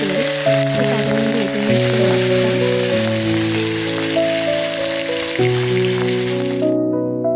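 Hilsa fish frying in hot oil in a kadai gives a steady, loud broadband sizzle that runs the whole time, partly masked by prominent background music with sustained melodic notes, ending abruptly.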